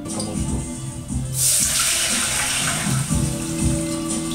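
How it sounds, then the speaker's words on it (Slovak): Water poured into a pot for garlic cream soup, a steady close gushing splash that swells after a moment and continues over kitchen background sounds. "A dáme tam vodičku."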